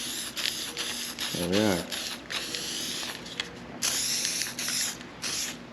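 Black spray paint hissing onto wire-wheeled tractor hydraulic line brackets in a farm shop, in repeated bursts with short gaps, loud and close, with a brief spoken remark partway through.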